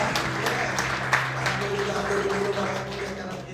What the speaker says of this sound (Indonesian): Tepuk tangan yang terbaik buat Tuhan Yesus.